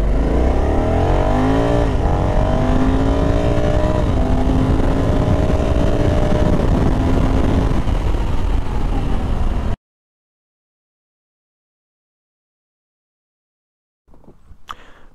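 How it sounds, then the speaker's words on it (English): A 2021 Honda Africa Twin 1100 Adventure Sports ES DCT motorcycle accelerating at full throttle, its engine note climbing loud and close through several gear changes before cutting off abruptly into silence. "Show you a full throttle acceleration run here."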